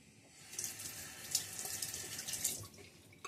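Water from a running tap splashes and gurgles at a sink during a wet shave with a Kent BK8 brush, a soft, close rush lasting a few seconds with small splashes near the end.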